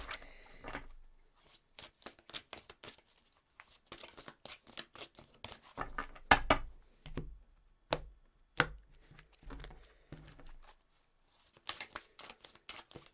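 Tarot cards are shuffled and handled close by in quick, soft rustling bursts with brief pauses, some crisp snaps standing out, all fairly faint.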